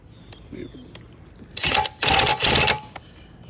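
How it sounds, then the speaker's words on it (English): A cordless impact wrench drives the screw of a rusty manual stabilizer on a vintage Airstream trailer, firing three loud, rattling hammering bursts close by after a few quiet clicks. "I'm going to show you the impact wrench and why it's so handy for this"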